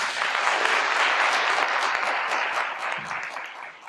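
Audience applause for panelists at an NAACP political forum: dense, steady clapping from a crowd that starts full and tapers slightly toward the end, with no voices over it.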